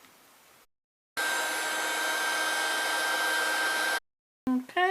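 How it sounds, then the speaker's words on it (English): A heat gun blows a steady, loud, high airy roar for about three seconds while melting embossing powder for heat embossing, then cuts off abruptly. "then we'll come back and heat emboss it"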